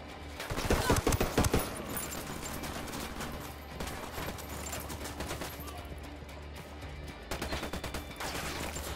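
Gunfire erupts in a Ghost Recon firefight against cartel fighters, a dense burst of rapid shots up front that settles into steady background combat noise, with a second flurry of shots near the end.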